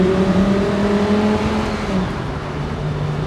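A convertible Audi R8 V10 Spyder 525 pulls steadily at low speed, a loud, continuous engine drone close by that eases off slightly partway through.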